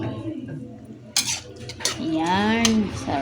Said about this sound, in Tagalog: Ako po ay magsasandok ng konti.